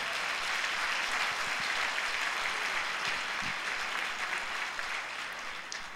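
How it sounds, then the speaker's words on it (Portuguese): A church congregation applauds steadily throughout, a dense continuous wash of clapping at even loudness that thins slightly toward the end. "dê um aplauso a Jesus."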